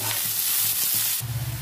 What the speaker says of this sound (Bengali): পেঁয়াজ কাঁচা লঙ্কাটা ভেজে নেবো।